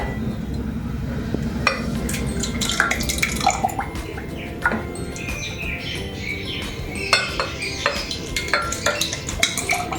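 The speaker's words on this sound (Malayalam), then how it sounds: "ഞാൻ ഈ പാല് ഇതിലോട്ട് ഒഴിച്ചു കൊടുക്കുവാണേ" Milk is poured into a glass for avil milk, with a close trickle of liquid amid clinks of glass and utensils and intermittent splashy knocks, and no voices.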